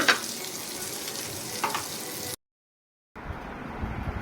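Pieces of vambe eel fish fry in hot oil with a steady, close sizzle. A brief gap of silence falls partway through, then the frying resumes.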